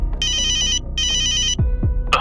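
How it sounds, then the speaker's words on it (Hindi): A telephone rings after a number is dialed, with two bright electronic ring bursts that repeat over a low steady background, and a few other tones follow at the end. "रोहन कॉन्टैक्ट लिस्ट में रामू काका का नंबर ढूंढता है और डायल करता है"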